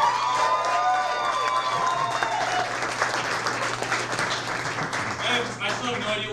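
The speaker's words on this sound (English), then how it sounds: "Another big round of applause for Quentin Johnson" Audience at a comedy show applauds and cheers for a comedian, a continuous crowd clapping wash with some whoops and a host's voice speaking over it.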